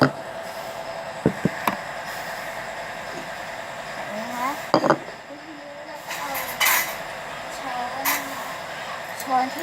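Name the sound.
cups and spoons clinking as cooking utensils are gathered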